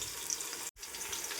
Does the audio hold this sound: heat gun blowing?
no